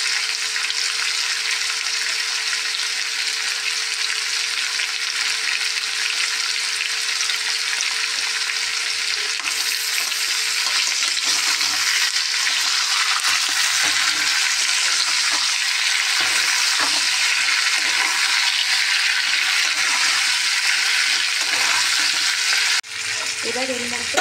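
Potato and tomato fry in a pan with a loud, continuous sizzle, with scraping and stirring noises that become more frequent in the second half.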